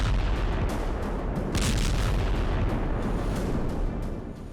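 Deep, rumbling bomb blasts in Gaza, set off to destroy a tunnel beneath Al-Shifa hospital, roll out as a heavy, sustained low roar with a sharper burst partway through before slowly fading.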